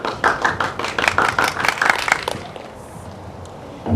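Applause from the audience at a Cumby, Texas high school graduation ceremony, a dense burst of many hands clapping for the graduates that fades out after about two and a half seconds, leaving quiet room tone.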